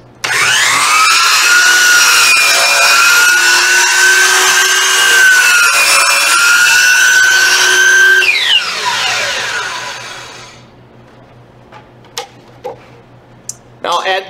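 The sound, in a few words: saw cutting a wide wooden board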